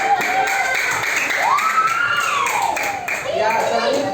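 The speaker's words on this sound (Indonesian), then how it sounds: "kita beri aplaus untuk kelompok 2" A classroom of students applauds a group's presentation, the clapping a continuous broadband patter lasting several seconds, with a voice rising and falling over it.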